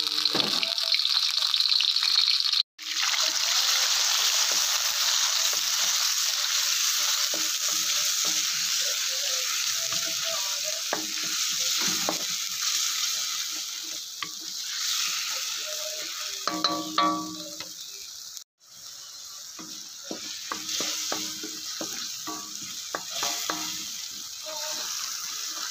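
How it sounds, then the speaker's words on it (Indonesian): Blended garlic paste sautéing in a little hot oil, a steady bright sizzle through the whole stretch, broken by two brief silences, with faint stirring scrapes and no talking. "Kemudian kita tumiskan bahan-bahan. Kita gunakan minyak sikit sahaja."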